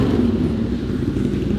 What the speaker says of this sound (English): Loudest bike ever.